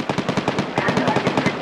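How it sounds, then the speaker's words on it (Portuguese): Rapid automatic gunfire in the shooter game Badlanders, a dense rattling burst of shots that continues steadily and loudly throughout. "Tem alguém atirando."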